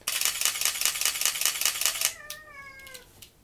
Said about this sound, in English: So that's the sound of the A7 Mark II.